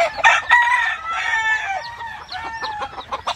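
Several roosters crowing on a farm in California, overlapping calls with clucking in between, close and loud with no talking.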